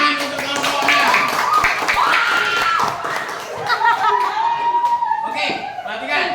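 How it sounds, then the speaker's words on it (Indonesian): Applause from a classroom of students for a presenting group, a dense crackling clatter of many hands with some chuckles and laughter mixed in, steady and fairly loud throughout. "beri tepuk tangan untuk kelompok 6"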